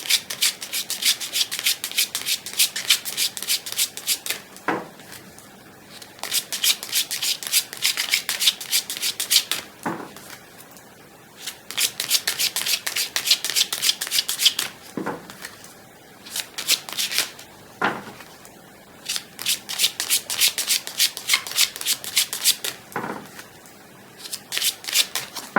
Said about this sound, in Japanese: じゃあシャッフルをしていきたいと思います